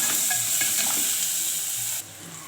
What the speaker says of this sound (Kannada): ಕ್ಯಾರೆಟ್ ಹಾಕ್ಬಿಟ್ರಿ ಚೆನ್ನಾಗಿ ಮಿಕ್ಸ್ ಮಾಡ್ಕೊಬಿಟ್ರಿ